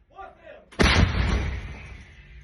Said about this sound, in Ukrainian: з гармати стріляєш?